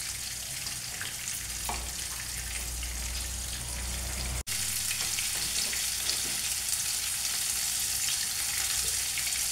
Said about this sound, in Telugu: ఒక 3-4 నిమిషాలు ఈ మాదిరి వేయించినామంటే కాకరకాయ ఉడిగిపోతుంది.